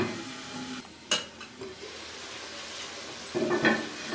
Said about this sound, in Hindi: अब मैं इसको ऊपर से कवर कर दूँगी और बिल्कुल स्लो आंच पे थोड़ी देर पकने दूँगी।